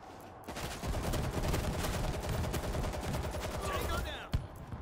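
A powerful gun fires sustained rapid bursts in the World War Z video game, loud and dense throughout, with a brief voice and a final sharp shot near the end.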